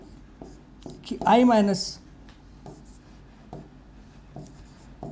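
Handwriting on a board or page during a chemistry lesson, faint scratchy strokes repeating at intervals, with someone briefly speaking over them.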